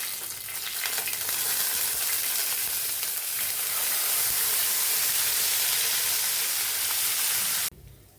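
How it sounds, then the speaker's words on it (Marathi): Curry leaves and spice paste hit hot oil with mustard and cumin seeds for a chana dal and pumpkin dish, giving a loud, close, dense sizzle that holds steady and then cuts off abruptly near the end. "याच्यात आपण कढीपत्ता टाकून घेऊ आणि आपली ही पेस्ट आपण टाकून देऊया"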